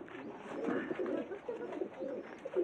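Absi and Kalkan pigeons cooing close by, soft repeated throaty coos rolling on continuously and fairly faint, with no talk.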